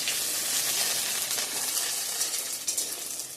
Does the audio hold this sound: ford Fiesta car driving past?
no